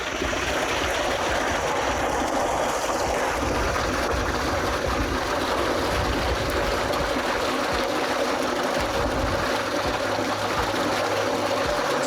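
Water gushing from a 150-foot-deep borewell in Ahmedabad, a steady, loud broadband rush that never lets up, with a faint low machine hum underneath and no talk.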